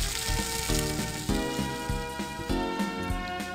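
Game sound effect of a toadstool sauté sizzling in a pan in Harvest Moon: Magical Melody, a continuous frying hiss with a musical tune playing over it, no talk.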